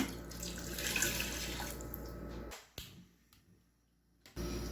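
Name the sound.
glass of water poured into a tea pot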